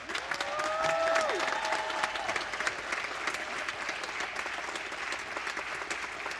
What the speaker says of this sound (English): we give Treasurer Kopp one more round of applause.